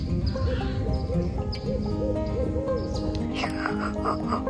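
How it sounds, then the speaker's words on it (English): An owl at a Florida state park campground gives a series of soft, low, wavering hoots close by, repeated several times over a steady background hum, with no talking. "Is he gonna do it? Is he gonna hoot?"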